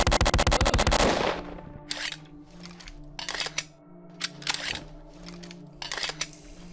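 An inaccurate gun fires in the FPS Creator game Squadron AIU, starting with a rapid loud burst of shots, then scattered bursts of sharp gunfire separated by quieter gaps.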